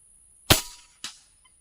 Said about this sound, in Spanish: Vamos a hacer otro disparo.